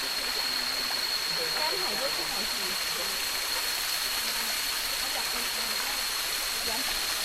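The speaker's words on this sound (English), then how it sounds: "Nice little stream." A small, clean mountain stream on the hiking trail to Wat Phat Lat in Chiang Mai, Thailand, flowing with a steady, close rush of water that holds level and unbroken throughout.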